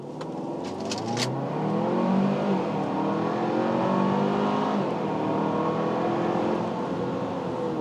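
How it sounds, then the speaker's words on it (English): A 2024 Kia Sorento X-Line SX-Prestige AWD SUV accelerating in normal mode, heard from the cabin as a steady engine hum rising in pitch through gear shifts, with no talk. "I'm just going to accelerate just a normal mode here."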